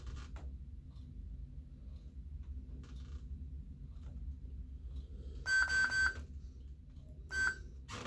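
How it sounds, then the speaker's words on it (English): An Ultrasabers Aeon LE v4 lightsaber with a custom install gives short electronic button beeps, two close beeps and a later single one, over a faint low hum and small creaks. "if you hold this for two beeps, it puts it into a deep sleep mode"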